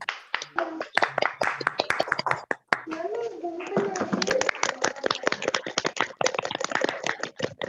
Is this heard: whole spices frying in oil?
no